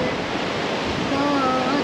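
Ocean waves at Montauk beach, New York, give a steady, loud broadband surf roar with no breaks, and a faint voice rises briefly toward the end.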